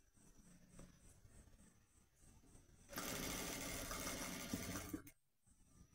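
A sewing machine stitches the hem of a wrap skirt in a single steady two-second run, close but quiet, following soft handling and a faint rhythmic ticking.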